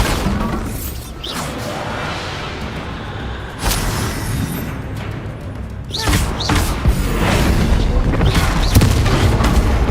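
Bombarda explosion spell in the Hogwarts Legacy video game, with repeated loud booming blasts and crashing impacts over a dense, rumbling battle bed.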